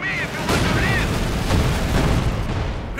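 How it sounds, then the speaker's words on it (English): A rifle grenade bursts against a mortar crew in Company of Heroes 2, with booming battle noise and gunfire rumbling under a commentator's voice throughout. "Quick rifle grenade there versus the mortar crew."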